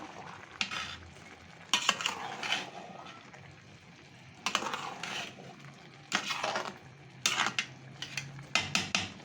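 Beef biryani being stirred in a pot, with intermittent scraping and clinking of a spoon against the metal in short bursts over a soft background hiss.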